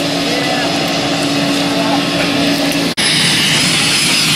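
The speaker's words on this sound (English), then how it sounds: "All right, Jason, here's our perfect good airplane" A skydiving airplane's engine roars steadily and loudly up close, a constant droning hum with a brief dropout near the end before the roar resumes.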